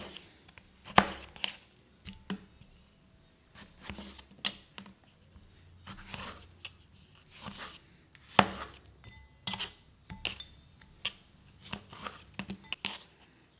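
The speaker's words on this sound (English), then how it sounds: "the Roma tomatoes, I like to cut them in 4s because when you cook them down, they will get smaller" A knife dices Roma tomatoes into chunks on a cutting board with a string of sharp, irregular knocks and chops, close and fairly quiet, with short pauses between bursts.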